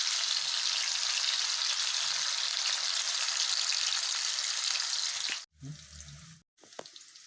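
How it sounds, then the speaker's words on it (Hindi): Paneer pieces fry in hot mustard oil in a kadhai for matar paneer, giving a loud, continuous close-up sizzle that abruptly drops away near the end, leaving quieter clatters and a soft hiss. "तो इस तरह पनीर को फ्राई कर लेना है।"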